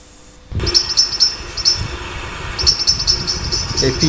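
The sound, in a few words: starlings and wood pigeons in a town park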